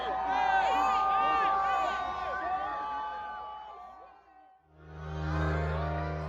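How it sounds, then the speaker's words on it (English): Concert crowd cheering and whooping loudly as a rapper takes the stage at his show, a dense roar of voices that dips briefly before surging again. "the crowd erupts in excitement as he enters"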